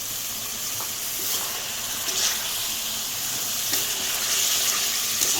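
Fried pointed gourd goes into spiced masala in oil, giving a close, continuous hissing sizzle with a few small crackles and bursts, steady throughout and free of speech.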